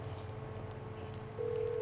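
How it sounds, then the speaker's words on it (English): A phone call to the mechanic in GTA 5 begins with a short run of faint, quiet dialing tones, then a steady electronic ringback tone that sounds near and alone. "call up one of your cars from your nightclubs that are full"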